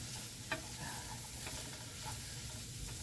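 Canned chicken and rice noodle mix being stirred in a hot pan, a soft continuous sizzle with faint scraping stir strokes, quiet and steady with no talk.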